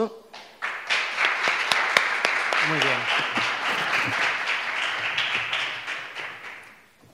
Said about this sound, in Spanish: Damos un gran aplauso.